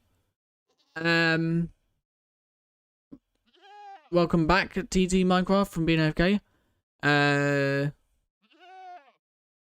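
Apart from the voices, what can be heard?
screaming goat bleating in a video game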